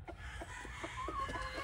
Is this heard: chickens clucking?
yes